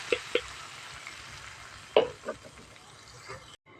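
Tomatoes dropped into a hot pan and frying: a few sharp splashy hits followed by a soft steady sizzle, close and fairly quiet, with no talking.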